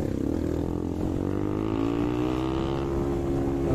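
A Bajaj Pulsar 125 motorcycle engine rumbling steadily while riding, pitch rising slowly as it accelerates, fairly close with no talking.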